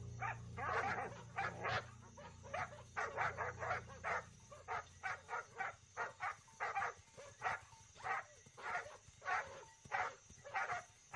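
Several guard dogs at a Maasai enclosure bark in rapid, excited bursts, fairly close, with a low rumble underneath early on and the barking continuing throughout.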